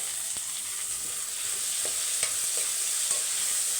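Steady sizzling of capsicum and onion sautéing in a hot pan, a constant hiss with a few soft scraping stirs, no talking.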